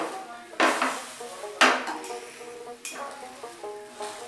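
Methi paratha cooks on a hot tawa, a soft sizzle broken by a couple of loud metallic clanks and scrapes of a spatula on the pan, close and without talk.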